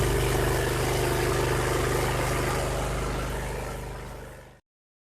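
The engine of a 2001 Cub Cadet 3184 lawn tractor idles close by with a smooth, even drone, then fades out near the end.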